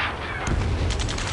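Gunfire crackles in rapid bursts during a battle in the video game Ace Combat 7, set against a dense, rumbling background of combat noise, moderately loud and steady throughout.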